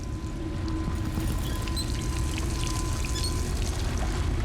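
Water pours in a continuous, steady gush within the game Dishonored 2, a close, loud, unbroken rushing flow with no pauses.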